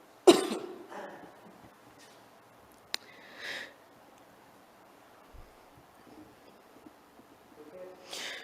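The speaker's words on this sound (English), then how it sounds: "Good, because I had to cough." One sharp cough close by, followed by a few sniffs, a throat clear and faint rustling in a quiet room.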